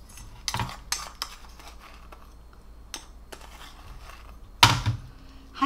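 Spooning adzuki beans into a cloth infusion pouch: a few sharp clinks and light scrapes of a spoon against a container, spaced apart, with a louder clattering burst near the end and no talking.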